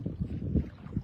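Paddles stroke the sea water from a small boat near an island in Siargao, giving soft rhythmic splashes under steady wind noise, with no talking.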